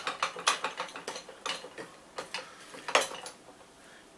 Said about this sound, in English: I'm going to put it in my vise.